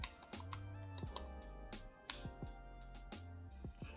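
Keys clack on a computer keyboard as a command is typed, a quiet, uneven run of close taps with short pauses between them.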